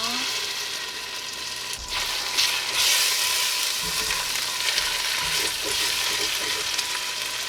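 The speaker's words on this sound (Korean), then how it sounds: "내장 간 것을 볶습니다" Ground abalone innards stir-fry in sesame oil, a dense continuous sizzle with occasional spoon scrapes and shifts, close and even in loudness.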